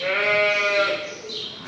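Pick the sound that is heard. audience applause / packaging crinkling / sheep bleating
sheep bleating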